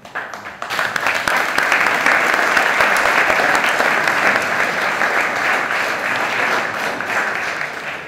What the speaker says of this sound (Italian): Merita sicuramente un applauso